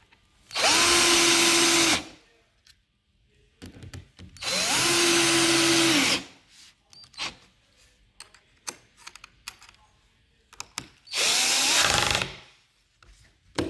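A power screwdriver drives hinge screws into a Modilayn ARD109 Defne microwave oven cabinet, whirring in three loud two-second bursts. Clicks and handling noise fill the gaps between bursts.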